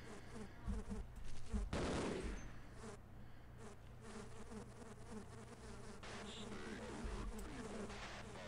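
A swarm of bees launched from a bee gun in Half-Life buzzes loudly and close, its droning whine running throughout, with a couple of brief sharp bursts mixed in.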